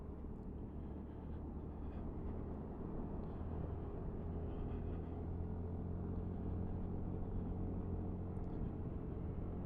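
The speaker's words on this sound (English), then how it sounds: "Quite a willing little engine." Honda SH350i scooter engine running steadily at close range, a continuous low rumble with a constant drone throughout, no speech over it.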